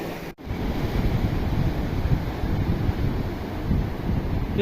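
Surf rolls steadily onto Kovalam Beach in Kerala, a continuous wash of waves mixed with strong wind buffeting the microphone, loud and close, with no voices.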